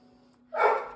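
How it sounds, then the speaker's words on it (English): A single dog bark bursts out partway through, after a quiet, steady hum, moderately loud and seeming a little distant, heard in the background of an indoor painting session. "you can hear my dog Freya barking in the background"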